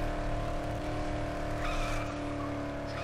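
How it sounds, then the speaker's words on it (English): Car engine in the video game Dead Island droning steadily at close range, with tires skidding and squealing partway through, continuous and loud throughout. "We can take the car there."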